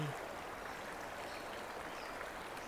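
A gentle river flows over smooth stones between soft grassy banks, making a faint, even hiss and trickle with no pauses or voices.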